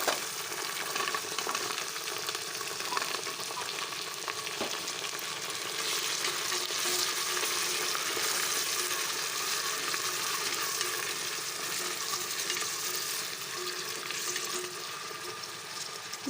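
Chopped small onions fry in a pan with a steady, close sizzle that swells slightly midway, along with faint stirring scrapes and no talking.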